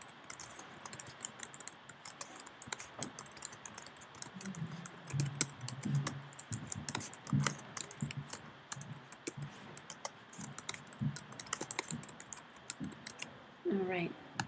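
Fingers type rapidly on a computer keyboard while a Google Form is being edited, with dense, light clicking close to the microphone through the whole stretch and occasional louder key strikes.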